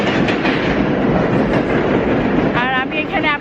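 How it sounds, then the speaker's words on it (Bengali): A train rumbles past overhead on a snowy day in America, a steady, loud rolling roar with clattering wheels that fills the whole stretch, with brief squealing tones near the end. "ট্রেন যাচ্ছে উপর দিয়ে"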